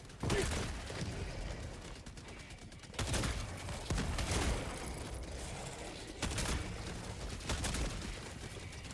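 Rapid bursts of automatic gunfire in the video game Helldivers, loud and close, with dense rattling volleys separated by brief pauses and mechanical clicks between them.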